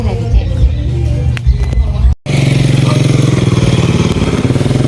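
A motorcycle engine runs steadily on a rural road in Laos, a continuous droning rumble close by that briefly cuts out near the middle and then resumes.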